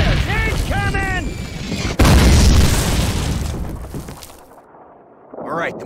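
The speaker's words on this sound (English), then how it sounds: "Mortars! Incoming!" Incoming mortar explosions in Call of Duty (2003), a heavy loud blast that crashes in, leaving a long rumbling decay, with shouting voices before it and a brief voice near the end.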